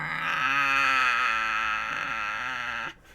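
A streamer's voice imitating a lion's roar, a sustained, strained, bleating-like vocal cry held for nearly three seconds before cutting off abruptly.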